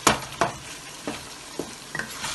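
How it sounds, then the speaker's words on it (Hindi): Minced meat for qeema kachnaar fries in a pan on medium heat with a soft steady sizzle, broken by about five distinct spoon scrapes spaced roughly half a second apart. "अब हम इसको भूनेंगे।"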